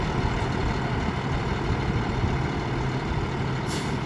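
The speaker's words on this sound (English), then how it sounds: "There's like 2 tow trucks up here." Heavy truck engines rumble steadily nearby, a low diesel drone around tow trucks out at the Glamis sand dunes, with a brief hiss like an air brake near the end.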